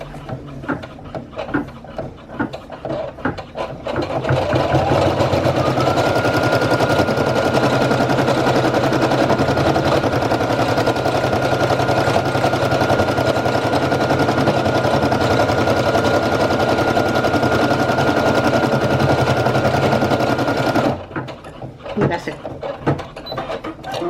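A Brother PE800 embroidery machine stitching an applique design runs as a loud, steady, rapid mechanical whir and rattle for about seventeen seconds, with quieter handling clicks before it starts and after it stops.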